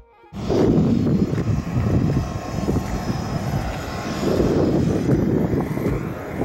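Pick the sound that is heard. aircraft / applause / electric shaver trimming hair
aircraft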